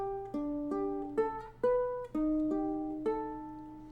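Ukulele picking a riff, bright plucked notes in a steady melodic pattern, each note ringing into the next, played alone at close range with no talking.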